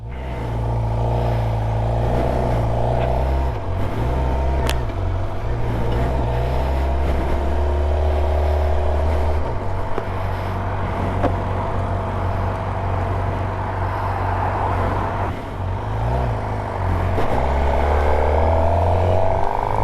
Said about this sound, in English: I can't believe this is the exhaust. This is the stock exhaust.